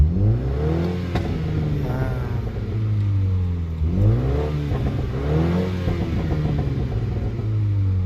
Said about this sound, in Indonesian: Oke, kita gas lagi.